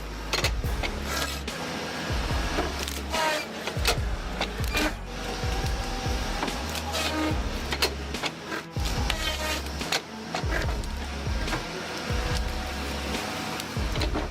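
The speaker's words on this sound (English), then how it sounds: "The Braca C16.C is a land clearing machine that turns trees and vegetation into mulch" A Braca C16.C land clearing mulcher shredding trees and vegetation into mulch, with repeated grinding, cracking bursts of wood being chewed over a low throbbing engine drone, in uneven surges.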